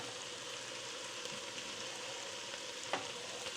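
Cubed chuck roast searing in a pot for chili, a steady close hiss and crackle of sizzling meat with a couple of faint clinks partway through.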